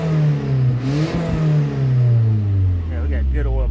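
Boosted Nissan D21 Hardbody engine running and revving, its pitch sliding up and then falling back toward idle, loud and close, with a voice talking over it.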